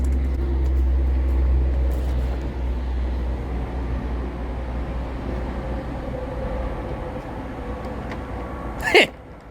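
A factory twin-turbo car pulls hard in fifth gear, a loud, steady engine drone with road rumble that holds for several seconds before a brief sharp burst near the end.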